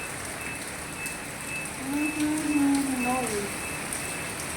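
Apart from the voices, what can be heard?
heavy rain falling at a Goa hotel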